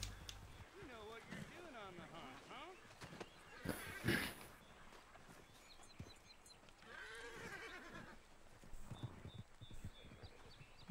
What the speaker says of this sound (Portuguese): mandou o cavalo embora